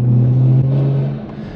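Car engine holding steady at about 1,900 RPM while cruising in manual paddle-shift mode, a loud, close, continuous low drone with a steady hum that eases slightly toward the end.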